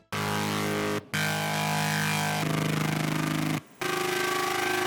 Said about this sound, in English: I ended up with a variety of ugly bass notes